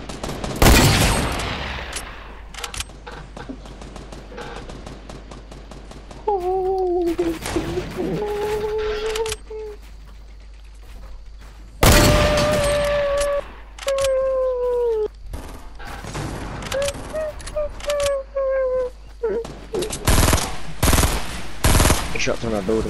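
Fortnite gunfire rattles in loud, rapid automatic bursts and sharp single shots, broken by quieter stretches with whistling and whining game effects, while a player talks over the action.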